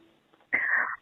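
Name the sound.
sneeze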